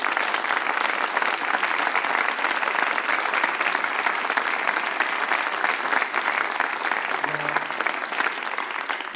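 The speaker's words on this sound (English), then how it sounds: "give a great big round of applause for Ron Carter." Sustained, dense applause from a live jazz club audience in New York, cheering bassist Ron Carter, steady and loud throughout without a break.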